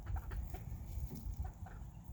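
Several chickens cluck softly in short, repeated bursts, fairly quiet and steady, with no voices.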